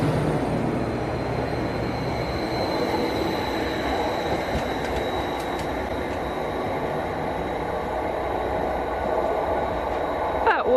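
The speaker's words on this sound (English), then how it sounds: "Here comes our train." A train rumbles steadily nearby with continuous rail noise and a faint high whine, growing slightly louder toward the end as it arrives at a station.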